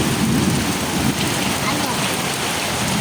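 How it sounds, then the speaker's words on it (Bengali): Heavy rain drumming on a tin roof, a dense, loud, continuous patter with a low rumble underneath, steady for the whole short span. "টিনের ছালে বৃষ্টি ঝুমঝুম পড়ার শব্দ খুবই ভালো লাগে আমার"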